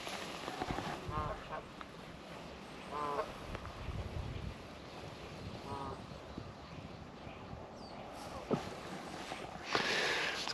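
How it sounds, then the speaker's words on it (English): Several geese honk in short bursts at a distance over faint outdoor ambience, with scattered calls spread across the clip. "A lot of geese."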